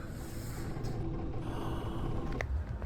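Room ambience is added under a film scene for an ad, a steady low hiss and murmur filling the space with faint distant rumble and a soft breathy sound near the end.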